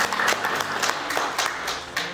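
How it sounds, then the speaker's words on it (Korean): Audience applause at a policy symposium and forum, sparse, loosely timed claps with distinct individual hits, fairly close and moderately loud. "여러분 토론 발상에 계신 분들은 한번 박수를 부탁드립니다"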